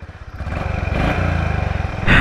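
A Honda CB350 motorcycle on a ride through Manang, Nepal, its engine thumping with a steady low pulse that swells slightly as it pulls away, fairly close and loud.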